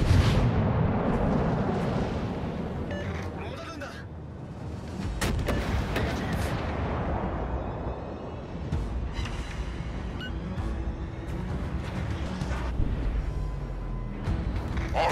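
Naval artillery in World of Warships: Legends fires heavy, booming salvos with rumbling blasts that overlap continuously across the stretch, loud and close.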